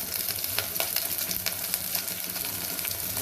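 Cumin seeds fry in hot oil in a pan with a steady, crackling sizzle close up and scattered small pops, with no talking over it.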